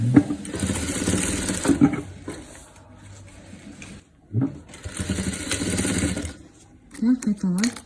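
A sewing machine stitches velour in quick rattling runs, stopping and starting in several bursts close up, with a person speaking over and between the stitching.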